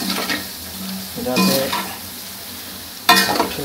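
Soybean chunks frying crisp in a hot pan while being stirred, with a steady sizzle broken by a few louder scrapes and clatters of the spoon against the pan; a voice briefly says a word.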